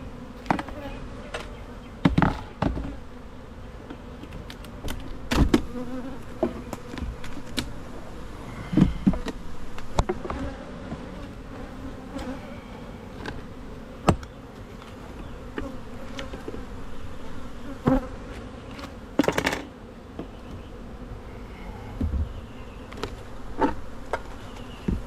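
Honey bees swarm busily around hives on a North Carolina farm in early June, a steady dense buzz with individual bees zipping close past at irregular moments, with no voices.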